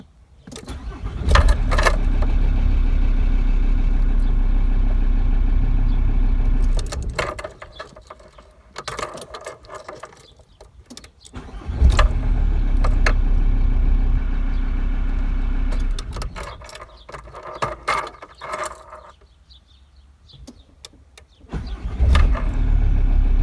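A Volkswagen Transporter T4 engine, freshly cleaned and lubricated, cranks and catches quickly, idles steadily, cuts off, then starts again twice more, each run a loud close rumble separated by quieter gaps with small mechanical clicks.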